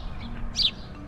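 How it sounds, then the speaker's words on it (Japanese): A house sparrow gives a single short, bright chirp over a low background hum, brief and fairly clear with no voices. "うん、イエスズメの鳴き声"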